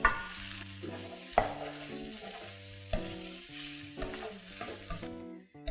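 Chicken and kelp noodles with tomatoes are stir-fried in a pan, with a steady close sizzle broken by several scraping stirs of a utensil against the pan, and no voices.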